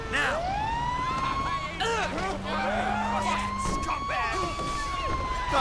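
Fire engine siren in GTA V wailing in rising and falling sweeps over game traffic noise, steady and fairly prominent throughout, with overlapping siren tones layered together.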